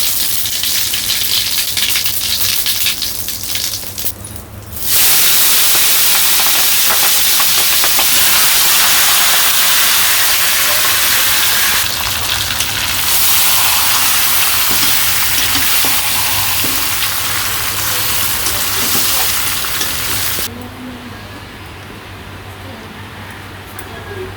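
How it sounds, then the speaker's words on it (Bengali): Cumin seeds and bay leaves dropped into hot oil in a village kitchen burst into a loud, close, continuous sizzling hiss that holds steady for about fifteen seconds after a quieter start, then eases slightly, with no talk. "তেলটা গরম হয়ে গেছে মানে জিরা পোড়ন তেজপাতা দিয়ে দিই"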